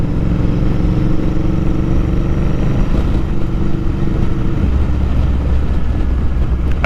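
A Royal Enfield Interceptor 650 parallel-twin motorcycle runs loud and close, its engine droning steadily with a deep low rumble and a shift in tone partway through, heard alone with wind noise.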